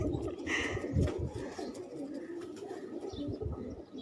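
Several pigeons on a rooftop coo softly and continuously, low rounded calls overlapping in a steady murmur with faint background noise.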